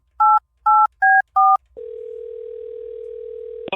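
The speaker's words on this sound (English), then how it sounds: "I'm calling him right back and getting him back on the phone." A telephone call being placed: four short dual-tone dialing beeps in quick succession, then a steady, loud dial tone held for about two seconds before cutting off.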